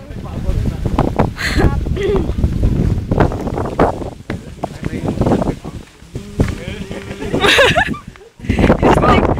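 Gusty wind buffets the microphone in rough bursts while voices talk over it.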